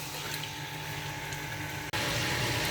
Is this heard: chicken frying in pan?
yes